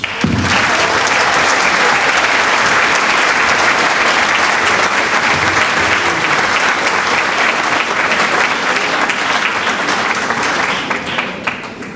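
A hall audience applauds young people on stage at a New Year's event in Béziers. The clapping is dense, loud and sustained, with faint crowd noise underneath, and it fades slightly at the end.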